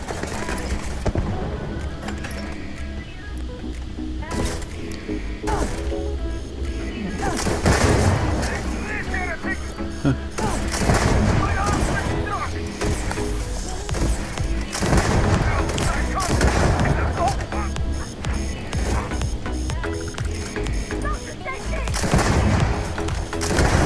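The Bridger gun in the video game Starfield fires in repeated heavy blasts with thuds and booms over a dense, continuous game soundscape, with a voice talking over the shooting.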